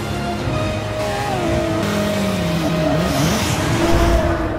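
Race cars on track in Forza Motorsport 6 roar past with high revving engines and pitches that rise and fall as they shift gears, with some tire squeal, loud and continuous with several cars overlapping.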